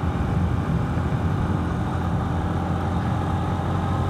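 A motorcycle engine runs gently at steady low revs, a continuous even rumble held close and fairly loud throughout with no voices.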